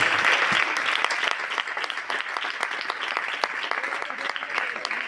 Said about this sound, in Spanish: Podemos brindarle un aplauso al Señor antes de citarnos